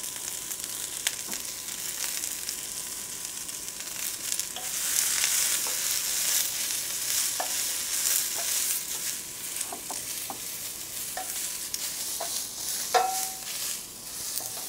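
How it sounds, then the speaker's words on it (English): Raw carrots, green beans and snow peas stir-fried in a pan with onions, giving a steady close sizzle broken by scattered clicks and scrapes of the utensil moving the vegetables. "next I'm going to add my raw carrot, my green beans, and my snow pea"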